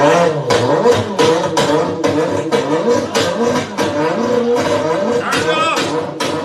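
A voice imitates a car engine struggling and revving at the start line, loud sputtering vroom bursts repeated in an uneven rhythm, followed by a short spoken remark.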